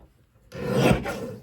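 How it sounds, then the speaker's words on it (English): A paper trimmer blade slices down through a sheet of patterned cardstock in a single rasping cut, close and fairly quiet, with a brief silent pause before it. "that stabilizing bar in place so the paper doesn't move when the blade comes down"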